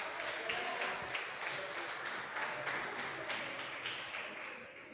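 A church congregation applauds at a Christmas-season evening service, a steady wash of many hands clapping at moderate distance, continuous and even for the whole stretch with no voices rising above it.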